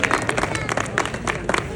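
A crowd applauds in a steady burst of dense clapping at a youth Christmas celebration in a Nawaz Sharif Colony neighbourhood, mixed with cheering voices.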